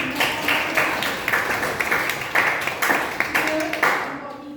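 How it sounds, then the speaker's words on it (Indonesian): A classroom of seventh-grade students claps together in a lively, uneven burst of handclaps lasting a few seconds, close and fairly loud, with voices mixed in before it fades out. "Oke, beri tepuk tangan."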